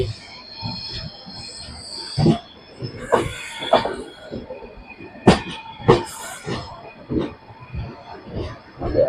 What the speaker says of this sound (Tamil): அழகா போகும் ட்ரெயின்